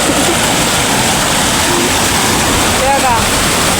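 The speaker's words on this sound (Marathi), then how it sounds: "धबधबी बघायची का धबधबी बघा कशी आहे" Small waterfall pouring in a continuous loud, broadband rush, close by, with a voice briefly audible over the roar.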